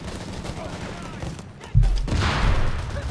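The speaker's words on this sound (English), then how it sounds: "We've got artillery fire as well there" Artillery fire in the real-time strategy game Company of Heroes 3: distant crackling small-arms fire, then a heavy low boom midway with a rumbling aftermath, with a commentator talking throughout.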